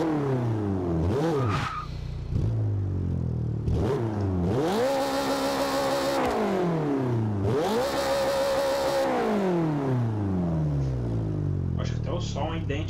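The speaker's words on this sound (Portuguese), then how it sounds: "Escuta o ronco do motor." A Mitsubishi Eclipse with a supercar kit roars in Forza Horizon, in repeated rising revs, climbing through gears and dropping back, loud and steady with a game-like mechanical tone.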